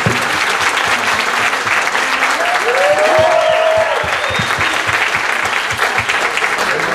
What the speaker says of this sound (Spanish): aplausos y aplausos.